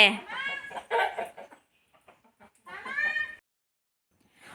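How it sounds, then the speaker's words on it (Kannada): A hen's clucks come in short bursts with pauses between, fairly close and alone, with faint rustles in the quiet gaps. "ರಾಕಿ ಅಲ್ಲಿ ಕಿಟಕಿ ಮೇಲೆ ಕೋಳಿ ಮೊಟ್ಟೆ ಇಡೋದಿಕ್ಕೆ ಹೋಗಿದೆಯಾ"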